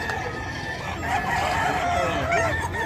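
Chickens cluck and a rooster crows amid a busy, noisy background of many birds at the Bocaue pet market.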